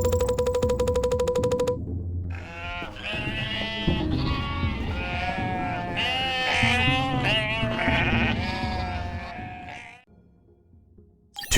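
Sheep from the video game UnMetal, a flock bleating loudly in a dense overlapping chorus of wavering cries, preceded by a brief electronic tone and ending abruptly in near silence.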